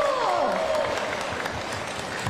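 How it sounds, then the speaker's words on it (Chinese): Audience applause at a political campaign rally, a dense steady wash of clapping and crowd noise that fills the whole stretch at even loudness, with a descending tonal sweep near the start. "你看，掌声鼓励一下。"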